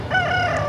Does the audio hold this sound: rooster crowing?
yes